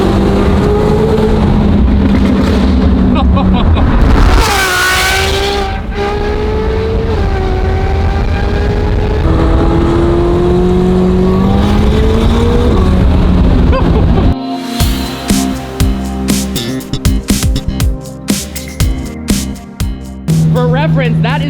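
Ferrari 812 Superfast tuned to 720 wheel horsepower accelerating hard in a roll race against a McLaren 720S, loud engine note with rising gear pulls and shifts, then a rougher, choppier close stretch, with people talking over it.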